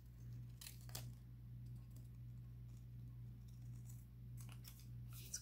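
Scissors snipping through a paper scrap during tag-making with stamps and postmarks, a few crisp cuts and crinkles against a steady low electrical hum, close and fairly quiet with no talk.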